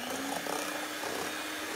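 A mixer whirs steadily through beaten eggs and oil for a chocolate cake batter, a short, even, close motor drone.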